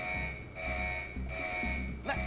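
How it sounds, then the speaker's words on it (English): A repeating electronic alarm rings through a facility locked down in the animated series Young Justice, with steady tones and pulsing bursts running under low rumbling sounds and voices. "The alarms put the whole place on lockdown."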